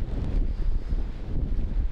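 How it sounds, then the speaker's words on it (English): Steady wind buffeting a waterproof 360 camera microphone outdoors on race day at the 2025 TT motorcycle races, a constant low roar with gusty fluctuations and no talk. "It's windy, okay, but it's not that bad."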